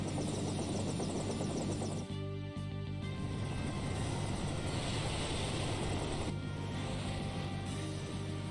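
An airship in Final Fantasy IV descends to land at a castle, a loud, steady rotor-like engine drone with a brief dip partway through, heard alone.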